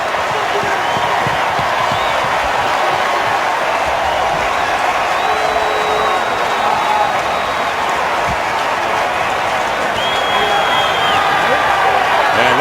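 A football stadium crowd roars in a steady, dense wash after a Redskins touchdown against the Rams in 2015, loud and sustained throughout, with a broadcast announcer talking over it.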